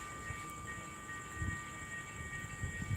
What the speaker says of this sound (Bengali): মনে হচ্ছে চট্টগ্রাম থেকে ঢাকাগামী ট্রেন আসছে